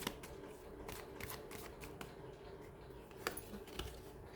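Tarot cards being shuffled close by, giving a quiet, steady riffling patter with a few sharper snaps, and no talking.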